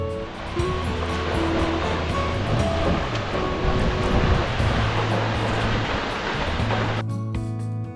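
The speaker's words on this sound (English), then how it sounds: "This waterfall usually has a lot of water flowing" Broadband rushing water from a waterfall in Yosemite National Park, a steady roar filling the whole clip, with faint low tones and a brief change near the end.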